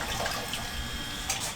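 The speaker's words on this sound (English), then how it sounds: "we were just testing the water to make sure everything was running through" Tap water runs steadily through household plumbing and a faucet in a log cabin basement after the old tank was bypassed, a continuous close hiss with a brief louder gush near the end.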